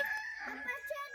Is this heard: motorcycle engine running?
no